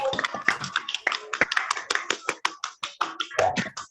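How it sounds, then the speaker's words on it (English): Scattered hand clapping from a few unmuted participants in an online reading and Q&A event, uneven sharp claps at a close, mic-level distance with no talking. "here we unmute and give real applause so you can actually hear it."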